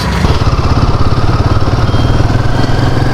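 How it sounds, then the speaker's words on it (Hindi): Twin-cylinder Yamaha MT-03 motorcycle engine of about 296 cc, running steadily at a low, throbbing idle or cruise, loud and close, with no talk over it. "Yamaha MT-03। It's a very nice machine, twin cylinder."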